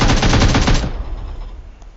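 Rapid automatic gunfire from PUBG Mobile rattles loud and close for under a second, then cuts off into a fading low rumble and near silence.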